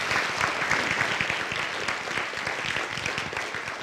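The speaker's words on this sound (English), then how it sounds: "So give them a round of applause." An audience at a military garrison update applauds award-winning medics from an infantry division, giving a sustained crowd applause of dense, even clapping at moderate distance.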